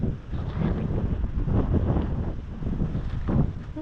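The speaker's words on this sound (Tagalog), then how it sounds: "Malakas po ang hangin." Strong gusty wind roars and buffets across an outdoor garden, a dense continuous rush with no voices.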